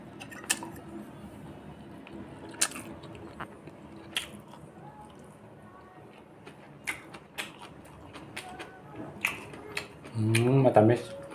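King crab is bitten and chewed close to the mic, soft squishy crunches and wet clicks scattered through the clip, growing denser near the end, with a voice speaking.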